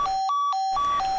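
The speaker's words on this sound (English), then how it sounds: "Sorry, that was my phone going off." A mobile phone rings nearby with a loud, steady electronic ringtone of alternating tones in a repeating pattern, heard alone.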